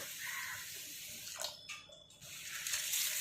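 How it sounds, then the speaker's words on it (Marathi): Water sloshes and trickles as wheat grains are swished around in a container, soft splashes and drips close by, with no talking. "आपण आता गव्हामध्ये पाणी टाकून 3 ते 4 पाण्याने हे गहू स्वच्छ धुवून घेऊयात"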